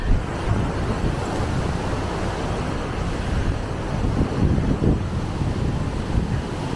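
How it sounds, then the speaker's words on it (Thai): Strong surf rolls onto a beach on Koh Samui under a red-flag warning, with heavy wind buffeting the microphone in a steady, loud roar that swells slightly toward the end. "ก็ดูก็น่ากลัวอยู่คือคลื่นมันแรงมาก"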